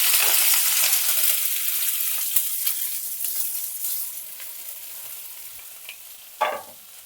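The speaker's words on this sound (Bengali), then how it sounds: "পেঁয়াজ, আদা, রসুন আর কাঁচা লঙ্কা দিয়ে আমি 3 মিনিট নেড়ে চেড়ে খুব ভালো করে ভেজে নিয়েছি" Onion, ginger, garlic and green chilli fry in a pan with a bright crackling sizzle that slowly eases, punctuated by a few sharp clinks and a louder scrape of stirring near the end.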